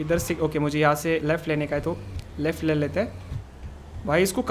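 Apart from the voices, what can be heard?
None of the usual background noises is heard.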